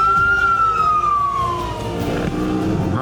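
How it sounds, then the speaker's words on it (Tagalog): An ambulance siren at the tail end of a street parade wails nearby, a single long tone sliding slowly downward over a steady traffic rumble. "Nang pinakahuli itong ambulansya."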